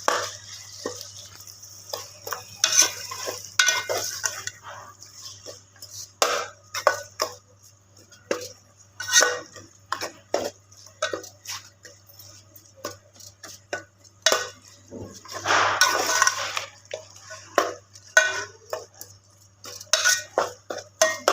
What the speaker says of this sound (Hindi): चलाते जाए, ये खोलते जाए कीमे को, ताकि ये जुड़े नहीं आपस में।